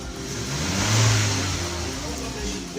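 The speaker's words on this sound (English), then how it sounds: "The engine is running." An Audi 1.8T engine idles and revs after a random misfire fix, giving a steady, smooth mid-pitched run that swells briefly and settles, close by with no talking.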